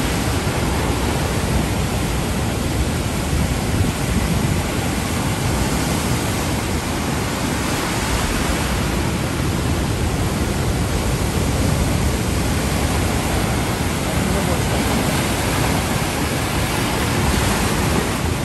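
Rough sea waves crash continuously on the beach at Lazarevskoye, a dense, steady roar of surf mixed with wind noise, loud and unbroken with no voices.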